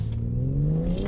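A 2019 BMW X4 M40i launches hard from a standstill in sport mode, the engine note climbing steadily in pitch over about a second, close and moderately loud.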